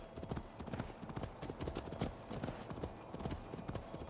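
Horse hooves clip-clopping in a steady trotting rhythm during a ride in a video game, moderately quiet and continuous with no talk over it.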